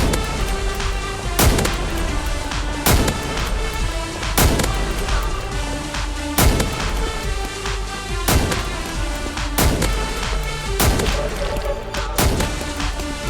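AWP sniper rifle from a Minecraft 3D military gun addon fires in loud, evenly spaced single booming shots, roughly every second and a half, each with a sharp crack and ringing tail.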